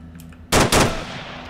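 Two sharp, loud gunshots in Arma 3 close together, each with a booming crack, followed by a fading echo and a low hum underneath.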